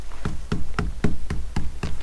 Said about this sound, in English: I'm knocking here. It's hard, really, really hard wood that can withstand any type of weather.